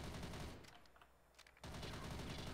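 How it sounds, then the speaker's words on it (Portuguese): Rapid automatic gunfire from the video game Rust, a dense loud burst that drops away for about a second and then resumes at full intensity, with no talking. "Ele tá atirando em mim, velho."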